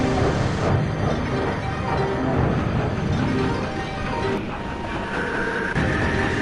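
A mail train rumbles through a tunnel in heavy snow, a continuous loud roar with a rhythmic clatter of wheels and faint metallic tones throughout.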